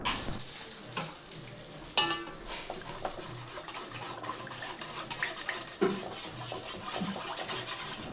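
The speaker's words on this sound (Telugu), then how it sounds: "యాడ్ చేసిన తర్వాత పౌడర్ని వాటర్లో బాగా మిక్స్ చేయండి" A spoon stirs homemade cerelac powder into water in a steel pot, giving continuous swishing and scraping with a couple of sharper clinks, close and steady.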